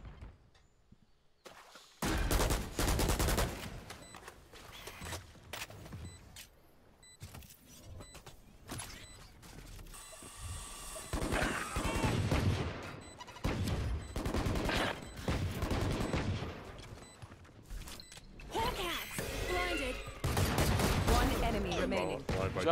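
Rapid bursts of gunfire from a competitive Valorant match, sharp broadband volleys recurring across the clip alongside loud game effects and a commentator's continuous voice.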